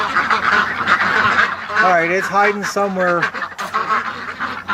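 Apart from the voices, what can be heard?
ducks quacking and honking at night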